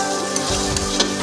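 Masala for chole, made with onion, sizzles steadily in a pan while a spoon stirs and scrapes through it in a few short strokes, loud and close with no talking.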